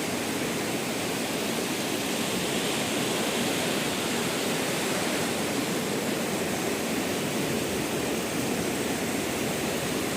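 Godavari river water rushes hard over rock beds, a loud, steady, close roar of broadband flowing noise that fills the whole stretch without any voices.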